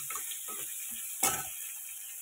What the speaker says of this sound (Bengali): পেঁয়াজটা আগে একটু হালকা বাদামি করে ভেজে নিচ্ছি